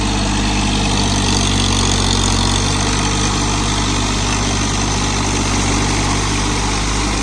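A John Deere 3028 EN 28 HP mini tractor engine runs steadily at idle, a loud, continuous diesel drone with a low throbbing rumble throughout and no talk.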